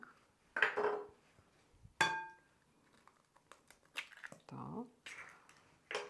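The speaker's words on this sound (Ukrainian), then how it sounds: "б'ємо два яйця." A few sharp cracks and taps as two eggs are broken against a bowl, with liquid slipping and clinking in a quiet kitchen, spaced out over several seconds.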